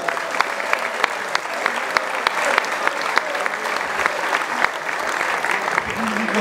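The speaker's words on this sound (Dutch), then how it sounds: "ik wil een heel David applaus voor Jan Peters" Audience applause for Jan Peters at a cycling event: steady, dense clapping from a sizable crowd, with sharp individual claps standing out and a voice faintly murmuring underneath.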